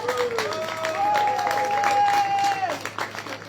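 Applause from a conference audience, moderate and sustained for a few seconds before thinning out, with a long whistling tone and voices mixed in.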